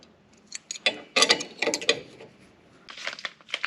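A hand ratchet loosening a front shock nut on a Dodge Ram 2500 2WD pickup, giving quick bursts of metallic clicking in uneven runs with short pauses, close and clear against a quiet background.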